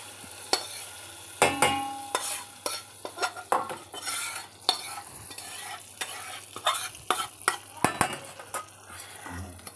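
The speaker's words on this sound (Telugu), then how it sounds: "చూడండి, మొత్తం ఈ పోపు అంతా దీంట్లో వేసేస్తున్నా." A spoon stirs hot tempering into yogurt for a Telugu perugu charu (yogurt curry), giving repeated close scrapes, clinks and brief sizzles against the pot over a steady low background hum.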